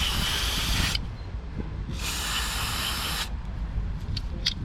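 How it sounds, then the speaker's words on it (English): Cleaner sprayed into the throttle body of a Chevrolet Malibu, two loud close hissing bursts of roughly a second each, separated by a pause, with light clicks and rattles afterward. "I open the blade just like this, and I spray some more"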